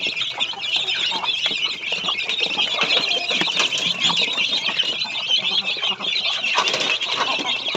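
Native chickens and brooding hens on a small farm cluck and chatter in a continuous dense flock murmur, with occasional wing flutters and scattered louder clucks throughout, no voices standing out.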